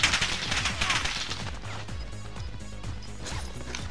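Rapid crashing blasts and gunfire-like bursts from airstrike explosions in a military video game, loudest at the start then settling into a dense, rattling stream of impacts.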